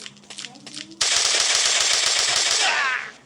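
Rapid automatic gunfire from a shooting video game, with a loud sustained burst of close shots. It starts after a second of quieter game sound and fades out near the end.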